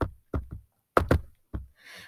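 Several loud, heavy knocks on a sturdy wooden front door come in short bursts of two, separated by silence, with a faint rustle at the end.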